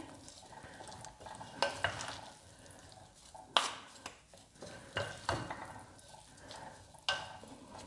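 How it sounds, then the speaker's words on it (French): A rice salad being stirred and tossed by hand in a bowl, with soft, irregular scraping and clinking strokes, a few sharper knocks, close and fairly quiet, with no talking. "Vous mélangez comme ceci."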